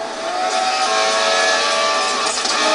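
A Lamborghini Countach engine in the racing game Need for Speed Most Wanted roars loud and steady at high revs, a sustained buzzing drone without talk.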